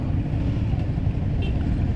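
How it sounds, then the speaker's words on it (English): Loud, steady low rumble of about 25 motorcycle engines fills the clip, mixed with wind buffeting the microphone, at an off-road trail ride in Goa. "Hear the rumble of the engines."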